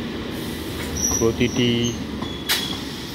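An Up Naihati–Bandel local train pulls into Hooghly Ghat station under a steady rumble, with squealing wheel tones and clanks rising briefly. Someone speaks over it.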